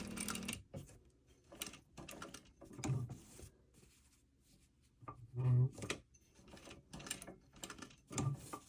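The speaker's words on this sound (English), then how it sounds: "And sew straight across." A home sewing machine stitches straight across a sleeve placket in short, close whirring runs that stop and restart, separated by quiet pauses.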